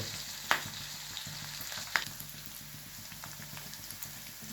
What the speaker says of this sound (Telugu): పచ్చిమిరపకాయలు వేగిన తర్వాత క్యారెట్ ముక్కలు వేసాను ఫ్రెండ్స్.